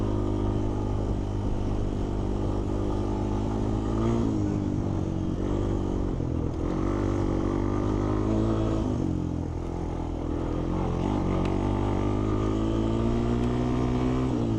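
A Honda TRX250X ATV with a small two-valve single-cylinder four-stroke engine is ridden, a continuous close engine drone that rises and dips slightly with throttle amid rattling chassis noise.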